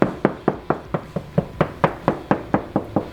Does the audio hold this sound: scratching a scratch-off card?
no